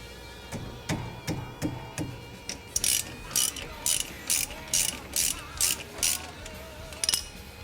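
A ratchet turns a 14mm hex caliper bolt on the front brakes of a 2013 Dodge Dart, starting with several sharp clicks and moving into a steady run of loud, close ratcheting bursts.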